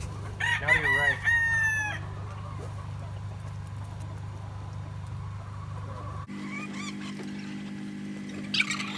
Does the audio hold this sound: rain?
no